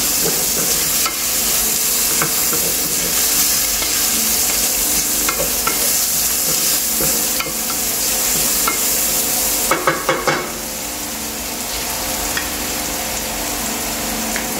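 Mushrooms go into a hot pan for a chicken dish and are stirred, a loud continuous sizzle with scraping utensil strokes and a few sharper clacks near the end, no voices.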